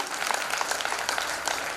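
An audience applauds during a religious discourse, a steady, dense patter of many hands clapping continuously throughout, fairly close and even in level.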